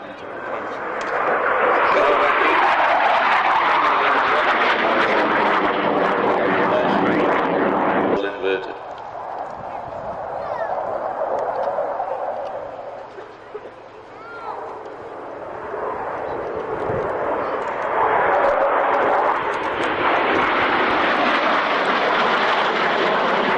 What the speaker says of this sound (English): Such a big aircraft.